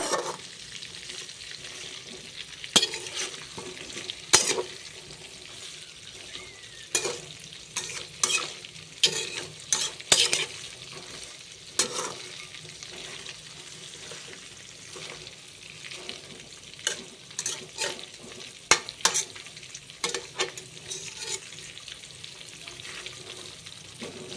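Stuffed eggplants frying in oil for gutti vankaaya fry, gently sizzling while a spoon repeatedly scrapes and clacks against the pan in irregular bursts, with no talk.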